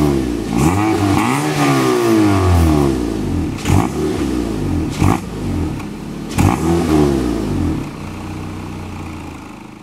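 A Honda Civic fitted with a new straight-pipe exhaust revs repeatedly and loudly nearby, with the engine note rising and falling through several sharp throttle blips and no talking.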